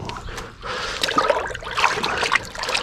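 Water trickles and splashes as animal hides are rinsed in clean, room-temperature water, with irregular dribbles and soft splatters close by.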